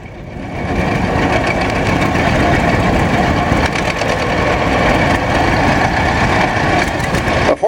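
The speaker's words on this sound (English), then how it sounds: "John Deere Model H built in 41, owned by Jim Hulse and driven by his grandson Tyler." A 1941 John Deere Model H two-cylinder tractor engine runs steadily, a loud, continuous throbbing drone heard close by at an outdoor show, with no voices over it.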